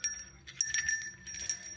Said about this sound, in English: these little bells